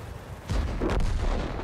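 In World of Tanks, a deep, heavy tank cannon boom rings out, followed moments later by a second sharp blast, loud with a rumbling tail and no voices.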